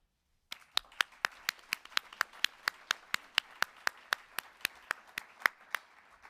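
Steady, evenly paced clapping at an awards ceremony, about twenty sharp claps in a row with a slight room echo and no talking.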